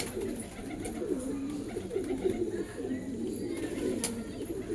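Pigeons cooing steadily at close range, a continuous low warbling coo with overlapping calls from several birds, likely a pigeon loft of blue pigeons in Allahabad.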